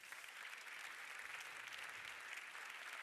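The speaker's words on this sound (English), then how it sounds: "May we have the biggest round of applause for producer Maria Ekerov." Crowd applause at the LUX Audience Award ceremony for producer Maria Ekerov of Sentimental Value, a steady, even wash of many hands clapping in a large hall, soft and distant.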